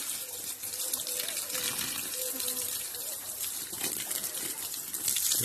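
Steady rush of water pouring and gushing continuously into garden soil in Cyprus, close by, with a bright hiss throughout and no talking.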